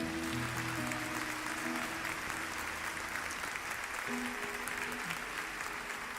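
A church congregation applauds in a steady wash of clapping while organ or keyboard chords sustain underneath, the crowd somewhat distant and moderately loud.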